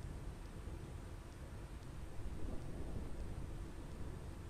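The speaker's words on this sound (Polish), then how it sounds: "będzie słychać te pioruny" Thunder rolls in the Final Fantasy X HD Remaster video game, a low, steady rumble mixed with rain-like noise, fairly quiet and unbroken with no voices over it.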